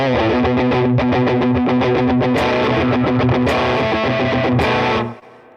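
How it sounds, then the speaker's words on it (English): Retro fuzzy distortion from a Cestus and Frank Bros Arcade pedal on electric guitar, loud chugging rhythmic chords with a few ringing accents, breaking up and sputtering, then cutting off abruptly at the end. "You can hear it kind of like fart out, but in a very cool, retro, fuzzy way."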